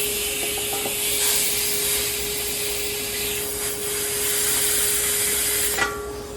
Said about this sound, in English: So I can spray air in there and it comes back out.